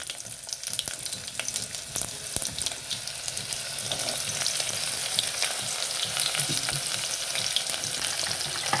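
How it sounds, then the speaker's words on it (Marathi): Cumin, mustard seeds and onion fry in hot oil on a high flame, making a continuous dense crackling sizzle that swells a little louder in the second half, close and with no voices. "लगेच जिरे मोहरी की लगेच कांदा टाकूया."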